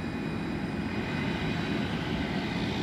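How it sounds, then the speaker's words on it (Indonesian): Scoot Tiger Air airliner being pushed back by a pushback car at an airport, heard as a steady, loud engine roar and rumble that holds at a constant level throughout with no voices. "melakukan proses pushback dengan didorong oleh kendaraan yang bernama pushback car"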